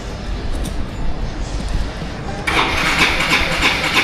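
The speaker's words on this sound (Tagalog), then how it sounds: "Painitin natin yung ating motor para mamayang hapon o gabi pag ginamit natin ay ayos na po yung" A motorcycle engine is cranked and catches, then settles into a steady, close warm-up idle that grows brighter and louder after a couple of seconds.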